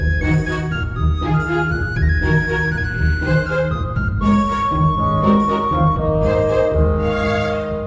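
Orchestral game music from The Legend of Zelda: The Wind Waker, strings over a soft woodwind line carrying a short quote of another melody, steady and full throughout with no talking.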